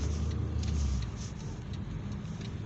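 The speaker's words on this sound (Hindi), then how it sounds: "नहीं वो निकलेगी गाड़ी" A car pulling out in a busy Gujranwala street, its engine a low rumble with a brief swell that eases off, no talking.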